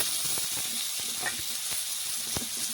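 Thinly sliced potatoes fry in hot oil left over from frying fish, giving a steady, loud, close hiss and sizzle throughout with no pauses and no talking.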